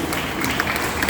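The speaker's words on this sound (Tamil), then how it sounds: "கைதட்டுங்க." An audience in a church clapping, a brief burst of dense scattered applause at moderate loudness.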